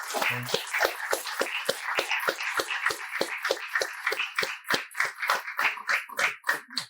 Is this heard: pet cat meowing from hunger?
no